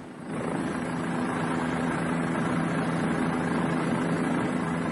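Police helicopter flying overhead, a steady, loud rotor and engine drone that swells in over the first half-second and holds constant throughout.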